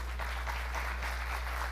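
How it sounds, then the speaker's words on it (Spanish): An audience applauds a mathematics professor after his talk on technology in teaching math, brisk, steady clapping over a constant low electrical hum, moderately loud and without voices. "por favor un aplauso"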